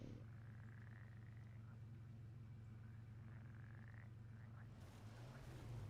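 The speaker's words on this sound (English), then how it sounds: "I can hear like the frogs in my headset" Frogs croak steadily in the Snowrunner off-road driving game, a dense chorus of continuous calls that runs throughout under a low engine-like drone, with a brief shift near the end.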